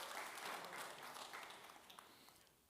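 Audience applause at a non-Earth imaging product event, faint, distant clapping from a crowd that fades gradually.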